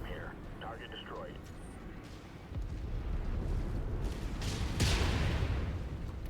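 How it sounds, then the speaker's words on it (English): Enemy mech weapons in MechWarrior 5 fire at the player, a deep rumbling barrage that swells after a couple of seconds with a heavy burst near the end, following a brief stretch of speech. "One of them finally shot at me."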